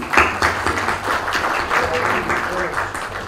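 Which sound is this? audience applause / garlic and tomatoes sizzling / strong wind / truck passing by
audience applause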